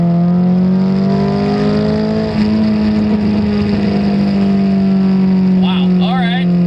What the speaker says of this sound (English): Oh, every time you downshift, pop.